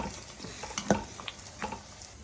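A tadka of dry red chillies, garlic, onion, curry leaves and a pinch of asafoetida sizzles in hot oil for a village-style gongura dal. Close, crackly frying mixes with a few sharp clinks of a spoon stirring in the pan.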